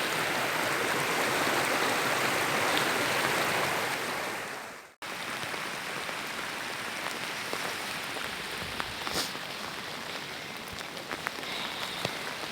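Heavy rain pours steadily with a broad rushing hiss, then after a brief break continues with rainwater running down from the hills and scattered droplets, close and constant.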